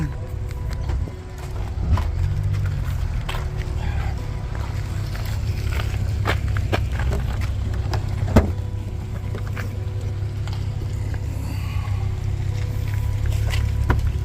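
Steady low road rumble and cabin hum from inside a car driving through Perth, Australia, with a few faint clicks and one brief knock around the middle, no talking.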